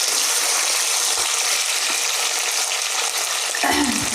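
Potatoes with ajwain sauteing in oil, a steady close hiss and sizzle throughout with a brief stir or clatter near the end, no talk.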